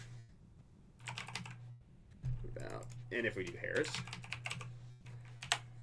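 Bursts of typing on a computer keyboard, quick clusters of key clicks entering a search, under a man's nearby speech with a steady low hum in the background.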